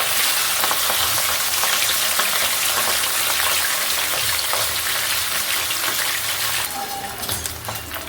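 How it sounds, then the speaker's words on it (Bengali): Pabda fish frying in hot oil for a mustard fish curry, a loud, dense, continuous sizzle with crackling spatter close up, easing slightly near the end, no talk. "মাছগুলো লাল লাল করে ভাজা হয়ে গেছে"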